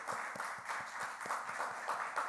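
A youth congregation at a combined middle and high school worship service claps in a quiet, rhythmic patter of evenly spaced hand claps, heard from some distance with a soft crowd murmur underneath.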